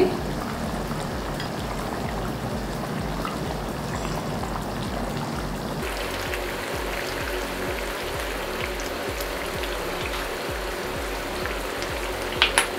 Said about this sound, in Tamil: இந்த மாதிரி லைட்டாக எண்ணெய் தெளியும் போது நம்ம இந்த மீனை போட்டுடலாம். இது வலை மீன்.